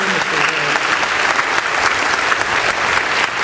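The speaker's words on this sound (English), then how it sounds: "Let's give her another round of applause for that wonderful," Audience applause at a Founders' Day event, a steady, dense wash of many hands clapping that fills the whole stretch at even loudness.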